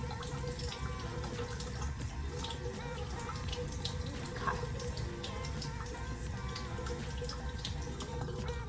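A bathroom sink tap runs steadily while hair is wet under it, a faint, constant splashing rush of water with light spatters.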